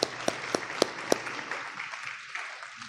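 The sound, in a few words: audience applause at school board meeting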